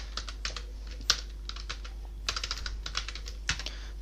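Typing on a computer keyboard while entering an item into an Excel VBA billing and inventory form: scattered clusters of crisp key clicks with short pauses, close and fairly quiet, over a steady low hum, no talk.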